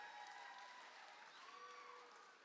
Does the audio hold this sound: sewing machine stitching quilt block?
no